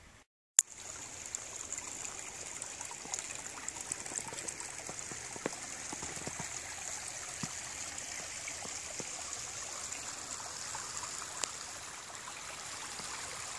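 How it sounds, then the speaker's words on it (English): A creek flows in a snowy winter setting, a steady close hiss of running water with faint trickles and small splashes throughout after a brief click at the start. "Creek"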